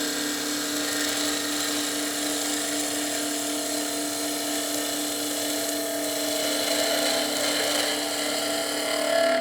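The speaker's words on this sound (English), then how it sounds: "make a planing cut across the surface to true the piece up" A skew chisel makes a planing cut across spinning wood on a lathe, a continuous steady whine with tonal hum that holds level and swells slightly at the finish.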